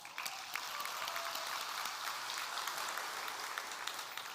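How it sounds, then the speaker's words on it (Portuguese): A live audience breaks into sustained applause for a man being honoured at a preaching event, a dense, steady clapping that fills the room for several seconds without letting up. "Queria uma salva de palmas pela vida desse cara."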